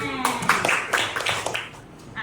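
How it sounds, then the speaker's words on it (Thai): A small group of schoolchildren in a math classroom clap for a classmate in a short, uneven burst of claps that fades out, with a teacher's voice speaking over it. "ปรบมือให้เพื่อนหน่อยค่ะ"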